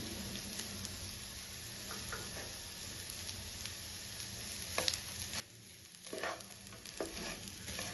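Masala with coconut frying in a pan for spicy mutton gravy, a close continuous sizzle with stirring scrapes and clatters, briefly quieter about two thirds through before picking up again, no voices.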